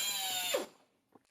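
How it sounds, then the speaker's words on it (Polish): A milling cutter cleans a damaged motorcycle crankcase casting in a workshop, giving a loud, steady high-pitched whine that cuts off abruptly at about two-thirds through, leaving near silence with a couple of faint taps. "Taką naprawę zaczynamy od dokładnego oczyszczenia naszego odlewu. Za pomocą, w tym przypadku, frezu."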